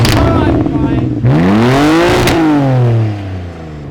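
Toyota Supra engine revving hard through its exhaust, a sharp rising and falling sweep up close, loud and alone before settling back.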